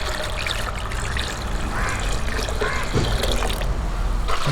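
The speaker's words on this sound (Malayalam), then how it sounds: "ഒരു 3-4 ലിറ്റർ വെള്ളം ഇതിനകത്തോട്ട് ഒഴിക്കാം." Three to four litres of water pour into a garden tub, giving a continuous trickling, splashing stream at close range that lasts the whole time.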